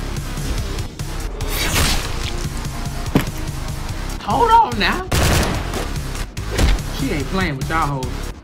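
Gunfire in a Madness Combat animation: bursts of shots and heavy impacts mixed with music and effects, with a person talking loudly over the action.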